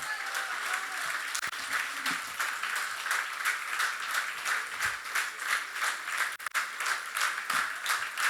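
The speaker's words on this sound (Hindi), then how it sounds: "देवी और सज्जनों, तालियां बजती रहनी चाहिए।" An audience at a women's council launch event applauds in a long standing ovation, sustained rhythmic clapping that carries steadily for several seconds at moderate volume with no one talking.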